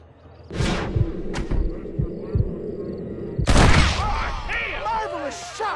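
Gunfire in a Red Dead Redemption shootout, with a few loud shots over a rumbling game soundscape and effects, followed by a dense burst of sound and ringing tones.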